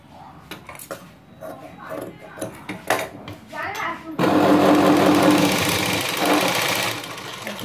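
A sewing machine stitches a princess-cut blouse, first with short bursts and clinks under a woman's speech, then a loud continuous close mechanical whir for several seconds.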